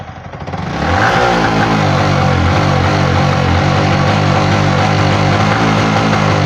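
A Yamaha MT15 motorcycle with low pickup and a suspected weak coil, its engine rising from idle into a loud, steady rev that holds close and strong.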